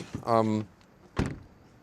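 A frameless door on a 2026 Smart #5 Brabus shuts with a short, hollow thud, preceded by a brief whirring tone like the window glass adjusting, heard close up in a quiet cabin.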